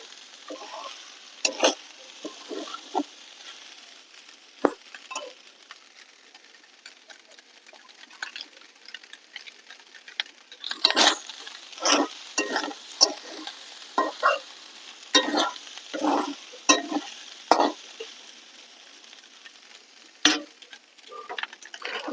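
Rice being fried with chicken pieces for chicken pulao, a steady low sizzle broken by repeated clattering stirs and scrapes of a spoon against the pot, growing busier and louder in the second half.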